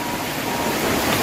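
The Citarik river flows beneath a bamboo footbridge in a village setting, giving a dense, steady, loud rushing wash of water with no break or talk.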